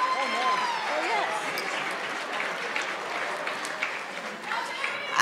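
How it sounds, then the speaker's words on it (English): Applause from a seated audience for a panel of speakers at a live-streamed event, a steady wash of clapping running through the whole stretch with a few voices and whoops mixed in. "Please give them a round of applause since they really motivate you"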